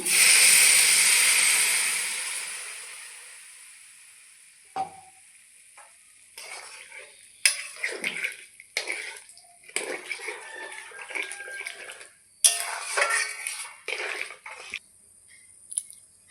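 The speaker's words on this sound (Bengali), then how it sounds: "এখন দিয়ে দেবো জল" Water goes into a hot pan of potato, soybean and paneer curry, giving a loud burst of hissing sizzle that fades over a few seconds, followed by scattered scraping and stirring clatter.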